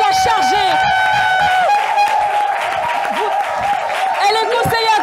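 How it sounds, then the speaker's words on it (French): A studio audience at an evening talk show applauds loudly while music with sustained tones and chirpy melodic lines plays over the clapping throughout. "je vais demander, s'il vous plaît, d'applaudir Madame Magnatier de Série Fou."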